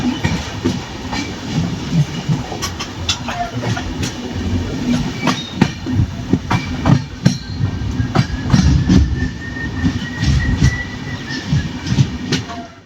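The Cholan Express passenger train (22675/22676) runs on rails with a steady, loud rumble and a repeated clickety-clack of wheels over joints, plus a faint squeal, and no voices.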